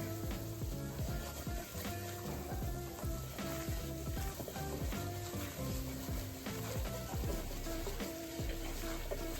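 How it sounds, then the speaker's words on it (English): A quick roux of flour, butter and oil sizzles steadily in a pan, a soft continuous fry with faint stirring scrapes, close but fairly quiet. "I put somewhere between 2 and 3 tablespoons of butter and oil in there. I'm just gonna make a quick roux."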